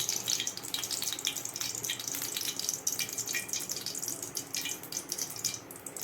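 Hot oil spattering and crackling in a pan with a little water in it, a dense stream of sharp pops and hisses at moderate volume, no voices.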